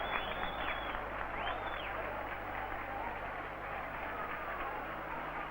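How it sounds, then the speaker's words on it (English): Spanish spectators in a stadium applauding a goal during a 1965 Spain versus England football match, a steady broad wash of crowd clapping sustained throughout, heard through an old broadcast recording with a faint low hum. "They're applauding that lovely football"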